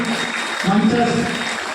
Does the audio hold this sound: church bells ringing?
no